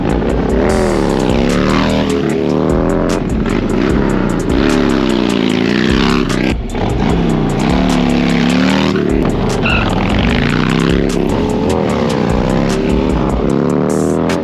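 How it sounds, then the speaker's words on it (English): Loud motorcycle engines rumble and roar close by, the drone rising and falling in pitch as several bikes ride past, with heavy wind buffeting throughout and no talk. "Hey, they're on Harleys, man."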